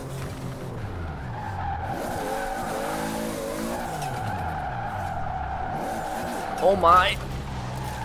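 Toyota Supra drifting in Forza Horizon 4 with a wheel setup, its engine droning steadily while tires squeal and skid, with a sharper squeal near the end; someone talks over the game sound.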